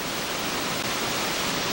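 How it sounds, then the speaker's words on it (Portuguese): Ponte de Pedra waterfall in Serranópolis, Goiás: a steady, full roar of falling water filling the whole clip, broadband and constant with no pauses, close and fairly loud. "Já dá para ouvir o barulho da água, a cachoeira está bem atrás aqui"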